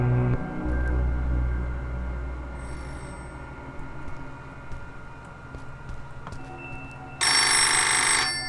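A telephone rings in the horror video game Midnight: Submersion as a faint tone under low game ambience, with soft clicks and a loud bright burst of ringing near the end.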